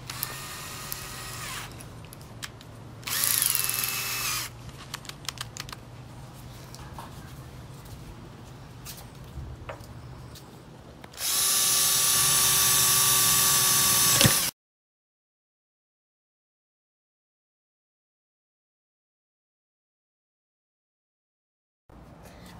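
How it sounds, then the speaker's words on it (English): A power drill whirs in short bursts, then runs in one long steady high-pitched burst drilling wood for a toy plane before cutting to silence. "this drill will do."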